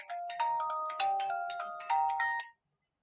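Phone ringtone sounding before a call is answered; a bright, close melodic electronic tune plays in a few repeating phrases, then cuts off abruptly into silence.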